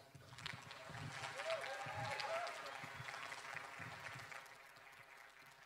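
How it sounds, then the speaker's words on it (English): Audience applause welcoming the opening speaker on stage at the BrightonSEO conference in Brighton, a broad steady wash of clapping from a large hall that holds throughout at moderate level, with some murmured voices mixed in. "if I could have a big round of applause for our opening speaker"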